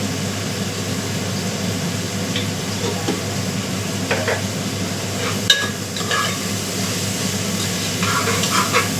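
Onions frying in a pan for a thin goat curry, a steady close sizzle with occasional stirring scrapes and clinks running throughout, no talking.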